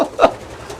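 A pigeon gives a short, close coo, one soft throaty note in under a second, followed by faint background noise.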